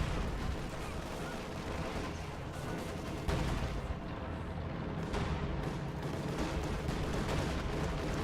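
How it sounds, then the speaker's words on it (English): Sturmovik air strike explosions in Company of Heroes 2 rumble continuously in a dense, distant-sounding barrage of blasts and gunfire, steady and fairly quiet throughout. "Oh, nice Sturmovik strikes."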